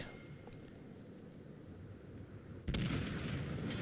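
A heavy boom of battleship gunfire from the Tirpitz in World of Warships bursts in abruptly after a low rumbling lull, then its broad roar lingers loudly to the end.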